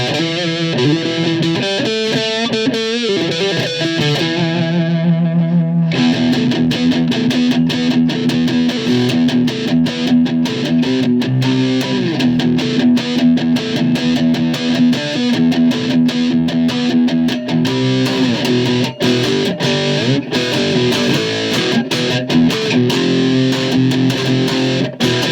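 A distorted electric cigar box guitar with humbucker and piezo pickups plays a continuous riff, thick and gritty, with a brief quieter intro before the full driven sound kicks in around six seconds.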